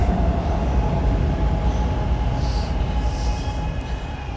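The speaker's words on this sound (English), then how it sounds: "Oh, one second, the train." A train rumbles past nearby, a loud continuous roar of heavy low rolling noise with faint metallic squeals and hiss above it, steady throughout with no voices.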